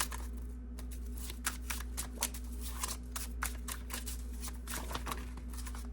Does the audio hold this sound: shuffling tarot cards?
yes